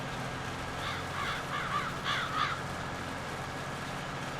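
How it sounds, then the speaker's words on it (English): Crows cawing in the Farming Simulator video game, a short burst of several harsh caws in quick succession over a low steady background, moderately distant. "Apparently the birds agree."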